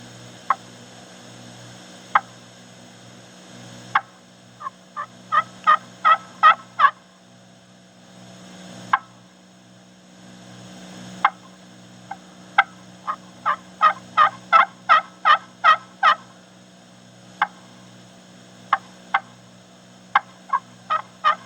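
Soft turkey clucks from a slate friction call, then bursts of rapid tree yelping in rhythmic runs, with pauses between sequences; close and clear, no talking.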